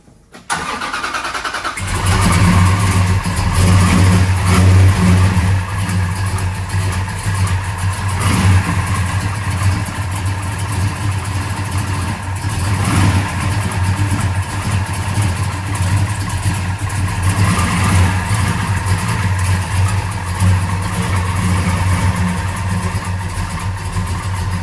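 A no-prep drag car fitted with a radical cam starts up and runs loud and close, its lumpy, choppy idle pulsing under periodic revs that rise and fall across the whole stretch.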